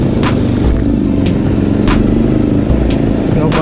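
A motorcycle that had not been ridden far in a long while runs on the road, recorded on a GoPro, its engine drone steady and loud under continuous wind buffeting, with a voice faintly present.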